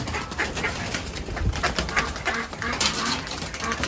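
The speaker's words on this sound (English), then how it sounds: "got pigeons. Pigeons. Look at those pigeons there." Pigeons on a farm, soft cooing mixed with other farmyard bird calls and a dog's whimpers, moderately close and continuous, with no talk over it.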